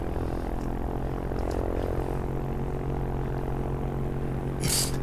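A small propeller airplane on final approach to land on a cold day, its engine droning steadily and fairly near from the cockpit, with a brief brighter rush toward the end and no voices.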